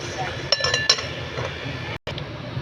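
Lid set onto a cooking pot of ginataang pakbet with chicken, giving a few bright metallic clinks and rattles early on over a low kitchen background, with a brief dropout near the end.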